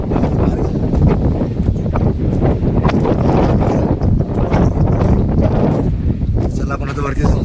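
Strong wind buffets the microphone on a foggy, rain-soaked mountain fort (Jivdhan fort), a loud, continuous roaring rush with gusting surges throughout and a voice talking faintly beneath it.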